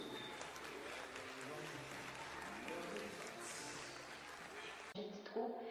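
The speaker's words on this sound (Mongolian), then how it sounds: "Бүгдээ урам барьж алга ташиж хүндлэг үзүүлээ." Audience applause at a fashion show, a steady wash of clapping from a crowd that runs for several seconds and then cuts off abruptly, with faint voices mixed in.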